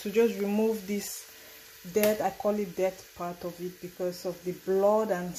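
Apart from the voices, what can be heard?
No everyday noise stands out behind the speech.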